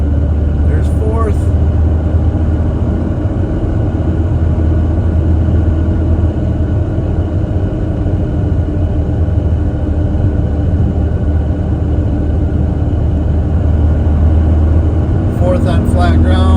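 A pickup truck fitted with an HPS intake pipe accelerates hard in fourth gear on flat ground, its engine a loud, steady, droning rumble that holds without a break for the whole stretch.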